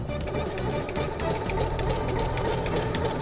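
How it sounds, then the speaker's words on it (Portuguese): Overlock sewing machine stitching the seams of a fabric makeup case, a steady, fast mechanical whir with rapid needle clatter running continuously and close by. "Feito isso, ele está pronto para a gente passar o overlock."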